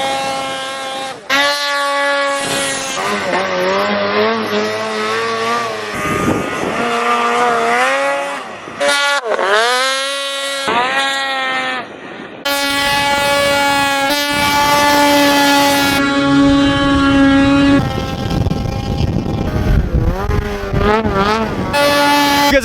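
Snowmobile sled engine running loud and close, revving up and down with sharp pitch sweeps and brief cuts between passes, the engine tone rising and falling repeatedly throughout.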